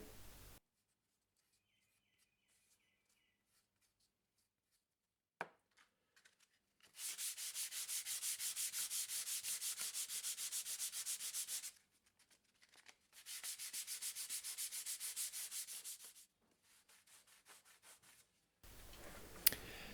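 Two long stretches of steady, scratchy sanding on wood, separated by a short pause, fairly close with quiet gaps around them.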